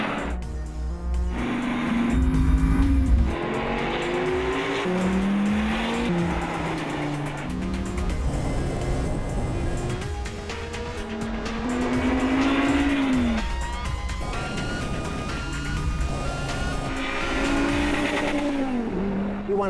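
A Generation 5 Dodge Viper supercar with a manual transmission races around Laguna Seca Raceway in California, its loud engine rising and falling through gear changes with bursts of tire squeal, steady and close throughout.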